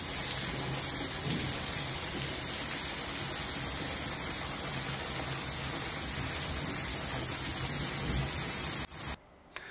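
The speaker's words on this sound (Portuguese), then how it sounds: "olha que chuvarada" Heavy rain pours steadily in Santo Augusto, central Rio Grande do Sul, as a dense, loud, unbroken wash of noise that cuts out abruptly at the very end, with no talking.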